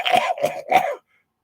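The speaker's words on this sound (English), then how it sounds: "Sorry, I coughed." A person, a smoker, gives three quick, harsh coughs close to the microphone in a rapid burst, followed by silence.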